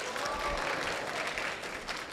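Students clap at a leadership camp capstone presentation, a dense round of applause from a group held steady for the whole stretch.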